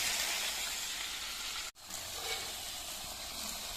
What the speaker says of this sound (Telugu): చింతపండు చక్కగా వేగింది కదా, ఇందులో ఈ వామాకు కూడా వేసేస్తున్నాను.